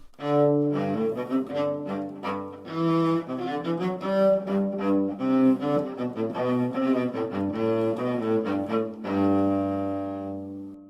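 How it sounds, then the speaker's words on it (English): A solo cello plays a lilting, dance-like Bach minuet of short, even notes, bowed clearly and closely, ending on a held low note. "Here's another melody that sounds very nice on the cello, a little minuet by Bach."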